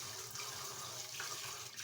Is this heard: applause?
no